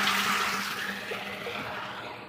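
Clean water pouring out of a rooftop water tank overflow pipe at a home water filter setup, a steady loud rushing flow that slowly fades slightly.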